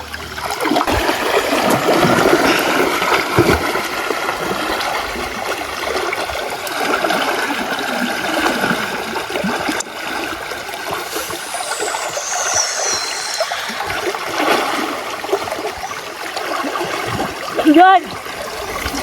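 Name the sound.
strong water current in rocky stream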